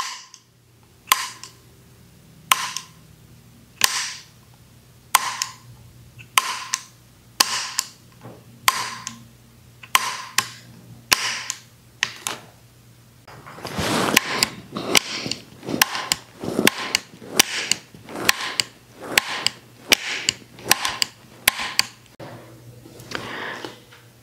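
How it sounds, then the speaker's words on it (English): The M16A4 burst trigger's ratchet wheel clicks against the burst disconnector in a steady series of sharp, close mechanical clicks, spaced about a second apart, then a louder rattling handling noise followed by quicker clicks. "Here's the best close-up I can give you of the ratchet wheel at work contacting the burst disconnector."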